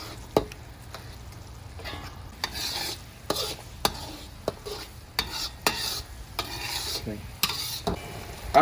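A spoon stirs eggs and lobster fat into a thickened butter sauce in a pan for braised lobster, with repeated scraping strokes over a soft sizzle, close and steady with no talking.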